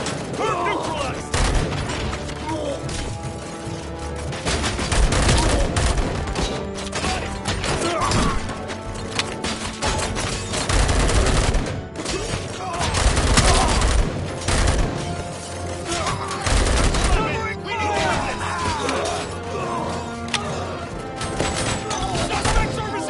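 Rapid, loud gunfire from the RoboCop video game, dense and continuous throughout, with bursts layered over mechanical clanks, crashes and a busy game soundtrack.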